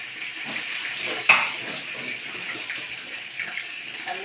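Onions frying in a pan for wet-fry rabbit meat give a soft, steady sizzle with a brief sharper clatter near the start and light stirring scrapes, fairly quiet and close, without speech.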